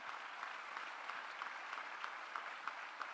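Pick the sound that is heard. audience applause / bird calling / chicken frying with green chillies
audience applause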